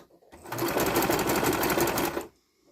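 Sewing machine stitching a top, a fast, even mechanical whirr running for about two seconds at close range, starting and stopping abruptly.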